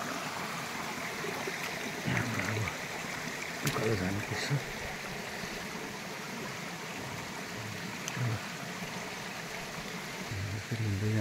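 Cold mountain stream running along a steep uphill trail to a Mahakal temple in Bhutan, a steady broadband wash of flowing water under someone speaking close by.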